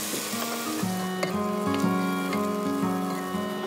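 Beef mince cooks in a pan with a close, steady frying sizzle and soft stirring. A low tonal hum runs underneath.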